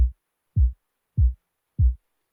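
Four deep, punchy kick drum hits processed with Waves CLA Drums Stereo in FL Studio, evenly spaced about half a second apart, each short and boomy with silence between.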